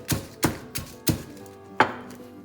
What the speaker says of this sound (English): You can add the red chilies and crush it now